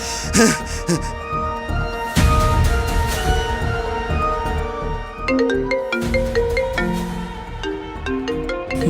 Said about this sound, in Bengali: দেবদীপ ফোন করছে